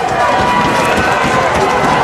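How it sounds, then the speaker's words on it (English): A high school football crowd at a Friday night game between Williamstown and Rancocas Valley roars steadily, a dense wash of cheering voices heard continuously at a distance throughout. "Crowd getting into it"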